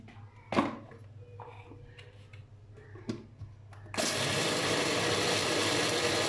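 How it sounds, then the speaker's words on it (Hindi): A grinder whirs up and runs steadily, grinding lentils into a fine powder, loud and continuous after a few knocks and clicks from handling the jar. "मैं ग्राइंड क्यों करने लगी हूँ इसको"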